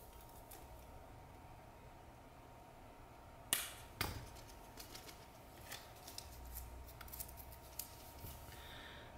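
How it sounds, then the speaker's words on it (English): Scissors snipping dead roots from a rootless Cattleya orchid, heard as a few faint, close clicks and snips scattered over quiet background hiss. "I'm just really being pretty picky here about cutting away"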